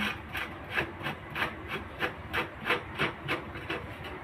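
A nut is unscrewed from the coil of a broken rice cooker with a tool. It makes a close, rhythmic rasping and scraping, about a dozen even strokes with no voices.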